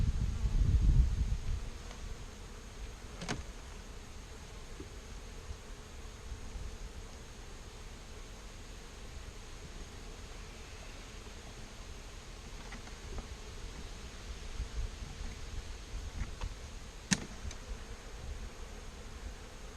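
Honeybees from an ornery, queen-right nucleus hive with brood frames buzzing as a faint, steady drone, with a few brief closer fly-bys standing out against the low outdoor hum.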